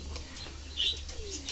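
Fantail pigeons coo softly at a distance over a low background hum, with a faint chirp and a brief flutter mixed in.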